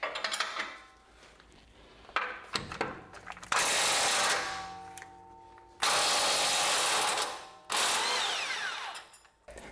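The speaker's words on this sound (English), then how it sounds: "So I obviously just quickly backed that nut out." Power tool backing a nut off a bolt during a Nissan Xterra lift kit install, three loud sustained bursts of whirring and rattling after some quieter clicks and handling noise, close by.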